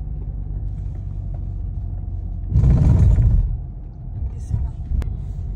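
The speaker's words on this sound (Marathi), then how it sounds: "Traffic jam." Low, steady rumble of vehicles crawling in a traffic jam on an expressway, with a heavier engine surge swelling for about a second midway before settling back to the constant drone.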